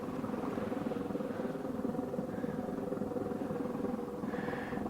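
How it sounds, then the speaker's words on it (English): A small electric vibrator motor rattles against a rocket stove's gravity pellet feeder, a steady buzzing hum that runs for the whole stretch at moderate level, with a slight brighter rise near the end. "I'll just attach this wire to the terminal and you heard the motor shake."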